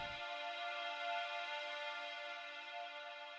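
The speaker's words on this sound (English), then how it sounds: "It's like a bit of a string sample that's looped." A sustained, string-like synthetic tone holds steady with rich bright harmonics, droning evenly without breaks, moderately quiet and alone.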